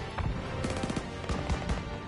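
Rapid bursts of machine gun fire from a World War II battle in Call of Duty WWII, loud and close, with thumping shots and impacts repeating across the moment amid chaotic combat noise.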